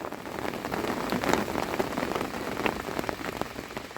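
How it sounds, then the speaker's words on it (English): Heavy rain drums hard and continuously on an umbrella beside a lake, a dense close patter with sharper individual drop hits and no voices. "now that's what you call some serious fucking rain. That is bouncing down."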